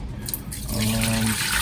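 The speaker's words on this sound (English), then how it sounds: "We are gonna put 2 cups of water in here first." Water pours into a Ninja Foodi pressure cooker pot in a steady, close, splashing stream that fills and rises in pitch over about a second, following a brief clatter.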